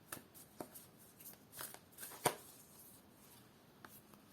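Moonology oracle cards are shuffled by hand, a soft, quiet run of papery riffles and flicks with one sharper snap near the middle, close up and without speech.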